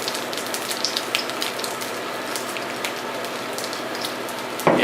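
Pot stickers sautéing in a hot pan with a little sesame oil after the lid comes off, giving a steady close crackling sizzle with tiny popping spatters throughout and no talk.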